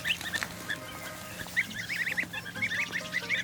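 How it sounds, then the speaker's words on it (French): White domestic geese and goslings honk repeatedly in short, bright bursts, some overlapping into a busy cluster, close by over a steady low background hum. "4 petits oisons supplémentaires. Alors ceux-ci c'est des oies blanches, donc la traditionnelle."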